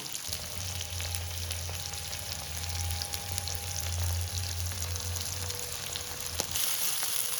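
Kingfish (surmai) steaks coated in Goan recheado masala fry in a pan with a steady, close sizzle and crackle that holds without a break, then cuts off near the end.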